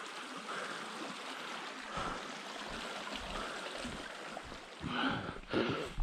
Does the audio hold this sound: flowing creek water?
yes